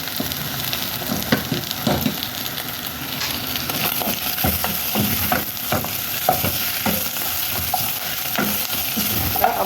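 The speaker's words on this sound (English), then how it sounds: "fry the meat." Beef frying in a pan while being stirred, a steady sizzle with scraping and clinking of the utensil against the pan in an irregular rhythm.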